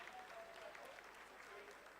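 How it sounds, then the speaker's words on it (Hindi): Applause from a watching crowd during a live lunar landing descent broadcast, a dense, steady wash of clapping held at an even level throughout, with faint voices mixed in. "Lot of applause indicates that till now the performance has been nominal."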